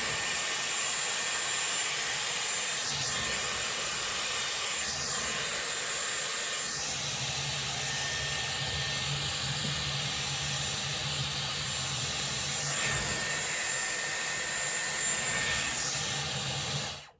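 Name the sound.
Dyson Airwrap styler blow-drying hair with round brush barrel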